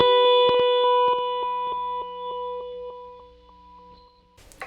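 A Boss DD-20 Giga Delay pedal repeats a struck guitar note as rapid, sped-up echoes with a buzzy electronic character, the pulses ticking evenly and decaying over several seconds before a brief burst of noise at the end.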